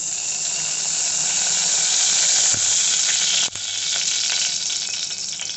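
Raw onion paste hits hot oil in a pot and sets off a loud, continuous sizzle and hiss close by, with a sharp click partway through.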